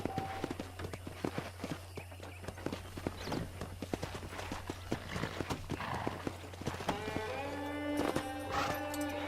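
Horse hooves clip-clopping in Red Dead Redemption, a steady, close rhythmic series of hoof strikes, joined near the end by a whinny.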